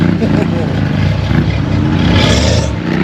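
A Corvette pulling away from a classic car show in Alicante, its engine a loud, steady low rumble close by with crowd voices talking over it throughout.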